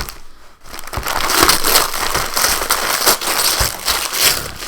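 Package being torn open, dense crumpling and crinkling of packaging material with sharp crackles, close and continuous for several seconds, with no talking.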